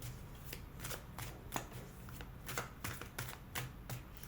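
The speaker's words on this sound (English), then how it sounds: "As I'm shuffling the cards, think about yourself, think about your person." Tarot cards being shuffled by hand in quick, repeated riffling bursts, close and fairly quiet, with no voice over them.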